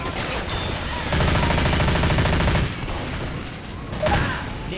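Gunfire in the Left 4 Dead 2 zombie shooter, dense rapid bursts of automatic weapon fire with layered shots, loud and continuous, with brief pauses and voices calling out.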